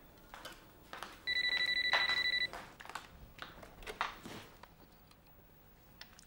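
A single electronic phone ring, a steady two-tone trill lasting about a second, followed by faint handling noises in a quiet room.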